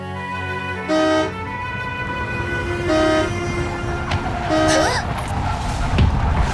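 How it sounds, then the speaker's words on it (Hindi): A car horn sounds in three separate honks spaced a couple of seconds apart, loud and close, over a low rumble of idling traffic. "कब से हॉर्न बजाए जा रहा हूं"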